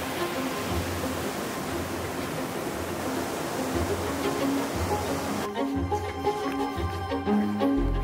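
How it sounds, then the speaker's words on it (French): A waterfall on a forest hiking trail in Georgia gives a loud, steady rushing roar of falling water, continuous and broadband throughout, with a faint change in texture near the end. "On approche de la cascade."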